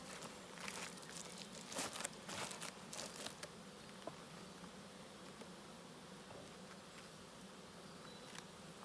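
Honeybees buzz steadily around a beehive outdoors, a continuous low drone with scattered louder passes of bees near the mic early on and soft crackles of handling.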